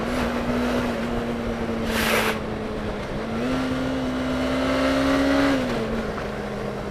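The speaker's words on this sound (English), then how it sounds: "Oh wow, that engine sounds marvelous." A 2018 Suzuki GSX250R motorcycle engine drones steadily under a riding test, its pitch rising briefly as the throttle opens then settling, with wind rush around it.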